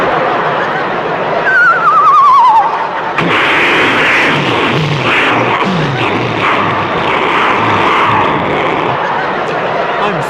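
A voice imitates a human torpedo being fired, with a descending whistle and then a long rushing whoosh, as a live comedy audience murmurs and laughs underneath.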